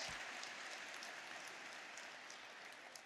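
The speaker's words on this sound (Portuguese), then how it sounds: "Ele merece ser aplaudido" A church congregation applauds during a sermon, a dense, even patter of clapping that fades gradually over a few seconds, faint and somewhat distant, with no talking.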